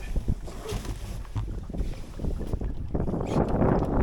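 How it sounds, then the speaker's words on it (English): Wind gusting past a microphone aboard a Drascombe Lugger dinghy under sail, a loud, buffeting rumble that swells and grows stronger toward the end, with water and hull noise underneath and no talk. "we've got a bit of wind here"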